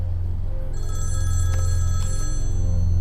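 A telephone rings with a steady electronic trill over a loud low hum; no one speaks.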